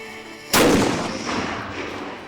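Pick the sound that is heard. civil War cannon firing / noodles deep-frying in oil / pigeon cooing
civil War cannon firing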